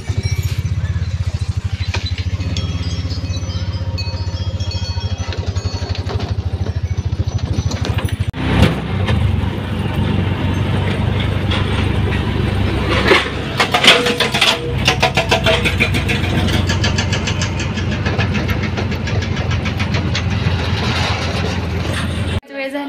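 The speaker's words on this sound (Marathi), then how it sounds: "आम्ही आता रिक्षा घेऊन चाललोय घरी आणि आरूसाठी खाऊ घेतला आम्ही." An auto rickshaw engine drones steadily while riding through town, a continuous rumbling putter with passing road noise, mostly under people talking.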